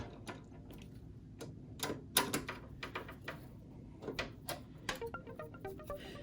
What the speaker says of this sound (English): You'll usually hear like a little clicking noise, and that'll indicate that you put your graphics card in.